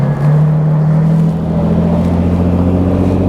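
Toyota Sequoia TRD Pro engine pulls steadily up a hill in 4 high with traction control off, a loud continuous low drone that holds an even pitch throughout.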